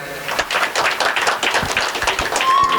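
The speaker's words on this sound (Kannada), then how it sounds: "ಅವ್ರಿಗೊಂದು ಚಪ್ಪಾಳೆ" Applause from an audience at a cultural music event, a dense run of hand claps continuing steadily and fairly loud throughout.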